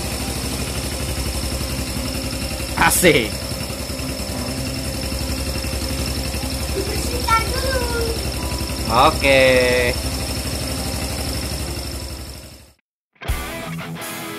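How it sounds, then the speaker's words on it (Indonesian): A small yellow motorcycle engine idles steadily up close as it warms up, a constant low rumble running through the whole stretch, with a few brief spoken words over it and a short dropout near the end. "Motor lagi dipanasi dulu"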